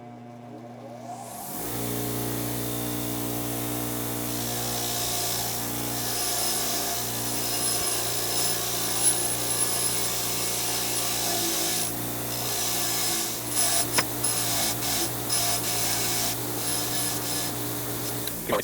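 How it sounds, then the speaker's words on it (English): A grinding stone works a flat spot onto metal for welding on a homemade snow racer. The rasping is continuous and close, riding over a steady tonal machine hum for the whole stretch, with scattered scrapes toward the end. "maybe I'll use the stone to grind a flat spot on there for us to weld to"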